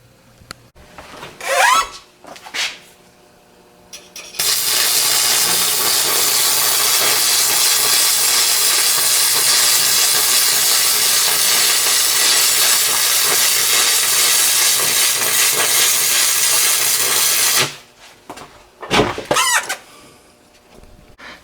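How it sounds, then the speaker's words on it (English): Milling machine cuts the top off a workpiece held in a vise while making a homemade chain pulley. It gives a loud, steady hissing whine for about thirteen seconds, with short knocks and handling sounds before and after. "Now we're going to take and mill the top off"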